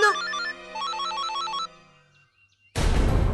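A telephone rings in a domestic drama scene, giving two bursts of bright warbling trills separated by a short gap. The ringing is close and clear and ends in silence, then a loud broadband noise cuts in.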